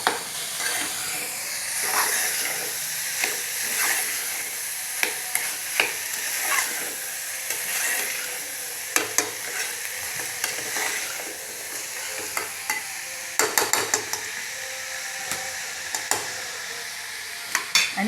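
Boiled bamboo shoots cooking over low heat in a pan without added water, sizzling softly and steadily while a spatula stirs with repeated sharp scraping clicks, close up and without talk.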